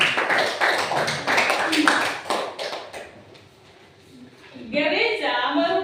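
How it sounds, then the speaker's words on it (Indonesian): Classroom group clapping for a student named Maria, a burst of brisk overlapping claps that thins out and fades, followed by a voice speaking once the clapping stops. "Tepuk tangan untuk Maria."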